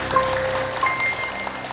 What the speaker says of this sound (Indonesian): Tepuk tangan bagus.